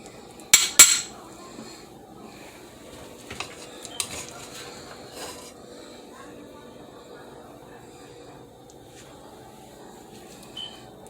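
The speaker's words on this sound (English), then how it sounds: "So I'm plating some up now." Dishes and a serving utensil clatter as smothered cube steaks and rice with gravy are plated, with a couple of sharp clinks early, scattered lighter knocks and scrapes, and a soft kitchen murmur underneath.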